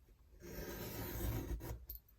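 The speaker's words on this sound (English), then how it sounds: "You can hear it grating on the knife." A knife blade grating against paper while decorating a handmade lapbook panel, a short dry rasping scrape rising and then fading, close and quiet with no talking.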